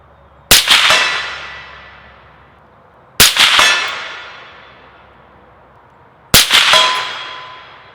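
Three sharp metallic clangs from 300 Blackout rounds fired from a short-barreled rifle striking a steel target in the woods, spaced about three seconds apart, each ringing briefly before fading.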